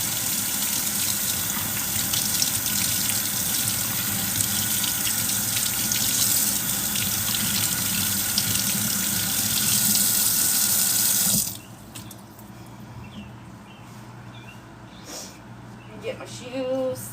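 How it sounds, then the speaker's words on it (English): A faucet runs hard into a sink as hands are washed, a loud, steady gushing splash for about eleven seconds before shutting off abruptly, leaving quiet room noise with faint movements. "I gotta wash my hands"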